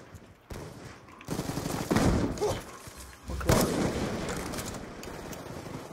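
Gunfire from a trick shot in an online shooter game, several loud bursts and thuds spread across a few seconds amid busy game noise.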